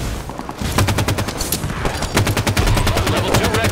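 Rapid automatic weapon fire in Halo 5 during a Warzone Firefight on the Temple map: dense, loud rattling bursts of repeated shots nearly throughout, with a brief pause early on.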